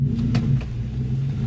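A tuned Chevrolet Silverado with a 5.3L gas engine rumbles through its exhaust with a low, steady idle-like drone, close and moderately loud, with no talking.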